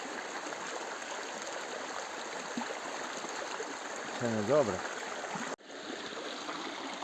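Constant rushing mountain stream water in the Carpathians flows steadily throughout, with a brief spoken remark and a short whistle-like sound partway through.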